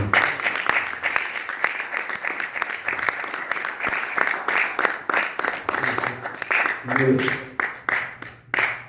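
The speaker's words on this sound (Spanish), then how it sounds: "Denle un aplauso al Señor." A church congregation applauds the Lord in steady, rhythmic clapping that lasts throughout, fairly close, with a voice speaking over it near the end.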